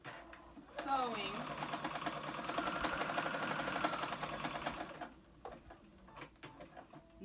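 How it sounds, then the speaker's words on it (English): A sewing machine runs a stretch stitch on knit fabric for a ruched tee, its needle hammering in a steady rapid rhythm for several seconds, then stopping and starting again in short bursts, close and loud. "So I'm sewing."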